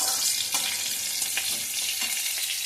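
Whole spices frying in oil for a methi chicken, just before the onion goes in, make a dense, continuous close sizzle with a few light stirring taps and no voices.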